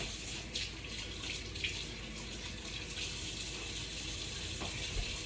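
Tap water runs steadily into a kitchen sink while hands are washed, a continuous soft splashing rush with a few small splatters, fairly quiet and alone.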